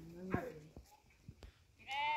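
Small goats out with a sheep and goat herd bleat in a few short, close calls, one sharp cry near the start and a longer wavering one at the end, amid light rustling and faint background voices.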